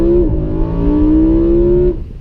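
A 2016 Lamborghini Huracan Spyder's 5.2-litre V10 holds a loud, steady engine note with a brief dip early on, then a rising pitch as it pulls, cutting off sharply near the end.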